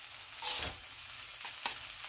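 Fried rice with shrimp fries and gets stirred in a pan, a soft sizzling hiss broken by a few faint scraping stir sounds, heard fairly quietly.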